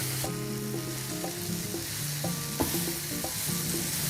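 Shrimp sizzle in a hot pan for a saganaki dish, with a steady frying hiss broken by stirring and utensil clinks and scrapes.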